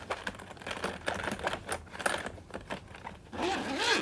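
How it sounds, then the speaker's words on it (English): Zippers on a microphone hard case being pulled open, a run of quick, close raspy strokes building to a louder, longer drag near the end, with no talk. "Great zippers."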